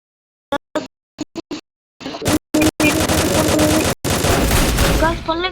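Rapid video game gunfire, first a few isolated sharp shots, then dense bursts of automatic fire and explosions, with a voice talking partly over it.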